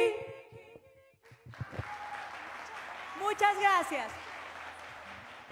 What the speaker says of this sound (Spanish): Ese aplauso bien fuerte, bien grande.